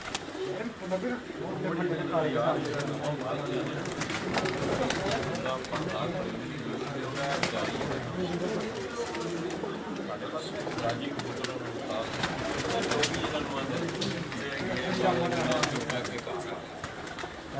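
Racing pigeons coo in a steady, soft murmur at a rooftop loft while people talk loudly over them throughout.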